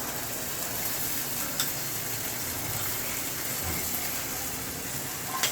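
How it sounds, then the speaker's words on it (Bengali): Boiled chickpeas tipped into a fried spice paste give a steady, moderate sizzle close by, with a few soft knocks from the pan. "এখন আমি দিয়ে দিচ্ছি সিদ্ধ করা বুট।"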